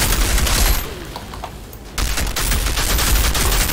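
Loud, dense automatic gunfire in the Outriders video game, a heavy volley that eases for about a second before the shooting resumes at full force.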